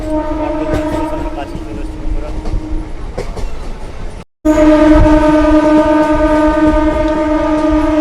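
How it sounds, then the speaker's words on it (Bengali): Katwa–Barddhaman local train pulling into Barddhaman Junction, a loud continuous rumble of wheels and carriages with a sustained horn tone throughout and a brief dropout midway. "আমাদের ট্রেন এই মুহূর্তে এখন বর্ধমান জংশন কাটোয়া বর্ধমান নতুন একটা পঞ্চাশ কাটোয়া বর্ধমান লোকাল এই মুহূর্তে তার last rail station Bardhaman junction ঢুকছে"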